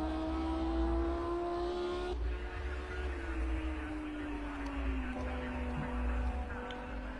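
An Audi race car in a motor race, its engine holding a steady high drone with a slow falling pitch, heard distantly under a broadcast mix.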